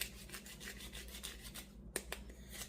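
Cloves being ground by hand with a mortar and pestle: faint, rhythmic scraping and rubbing strokes close by, with one sharper knock near the end.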